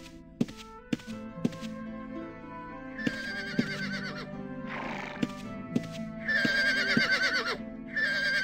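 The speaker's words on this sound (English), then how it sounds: "It's a brown horse." Horse neighs in Ultima Online, a brown mount, two bright whinnies over a steady background of game music, with periodic hollow thuds and clip-clops in between; close and fairly loud.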